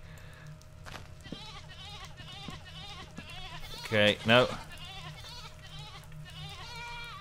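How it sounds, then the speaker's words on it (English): Goat bleating in a druid-themed video game, two loud wavering bleats in quick succession over steady game ambience, with someone talking before and after. "Is that a goat I saw?"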